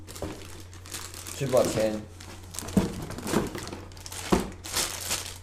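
Plastic bags crinkle and rustle in repeated bursts while bicycle cranks are unpacked, close to the microphone, with someone talking over the packaging sounds throughout.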